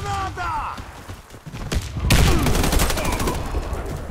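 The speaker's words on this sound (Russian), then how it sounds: "Осторожно, граната! Граната пошла! Граната!" A grenade goes off in the online shooter Warface, a loud burst that sets off a dense spread of gunfire and crackling impacts, with a voice calling out beforehand.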